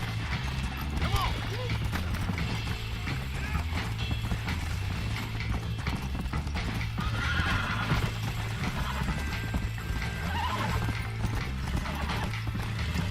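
Horses in a Western video game clip-clop steadily with hooves and let out whinnies, over a dense, continuous mix of game sound.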